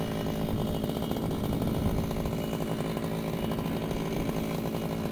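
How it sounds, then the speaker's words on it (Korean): A brush cutter trims grass on a sunny late-September farm field, its engine droning loud and steady at close range without a break. "오늘도 예초기를 들고 나와서 풀을 자르고 있습니다"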